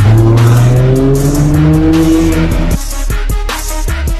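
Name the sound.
McLaren Senna supercar engine and tires in Monaco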